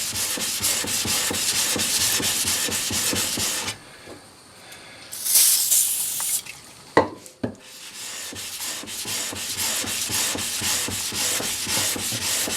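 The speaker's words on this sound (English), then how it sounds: "So back to the 400 grit and WD-40." A 1950s Record No. 4 hand plane is wet-sanded on 400-grit paper with WD-40, making steady rhythmic rasping strokes up close. The strokes pause midway for a few knocks and clunks, then resume.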